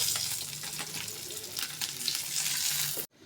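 Fish sizzling and crackling steadily in hot oil for a few seconds, a dense continuous frying hiss that cuts off abruptly at the end.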